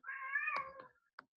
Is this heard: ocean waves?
no